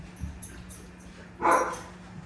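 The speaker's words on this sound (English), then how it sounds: "Excuse my dog barking." A single dog bark lands near the middle of the short clip, fairly close and brief, with a few faint thumps and rustles around it during an e-collar training session with another dog.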